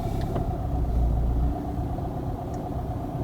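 A car engine idles with a low steady rumble that drops in level partway through as the clutch reaches the biting point for a hill start, then settles into a quieter hum.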